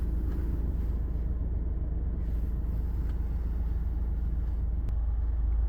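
A 2013 Honda CR-V 2.2 i-DTEC diesel, a Euro 5 4WD SUV, idling steadily with a low, even rumble heard from inside the car, constant and moderately loud with no talking.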